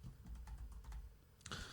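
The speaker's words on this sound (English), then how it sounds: "It's crazy how well I'm typing." Rapid keystrokes clatter on a laptop keyboard while someone types out a list of NFL player names, a close, brisk burst of clicks that builds to a louder flurry of keys near the end.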